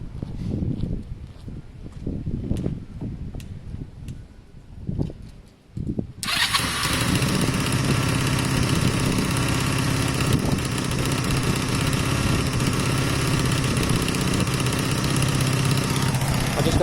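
A Honda CB250 motorcycle engine starts up: a few clunks and cranking noises, then the engine catches and settles into a loud, steady, close idle.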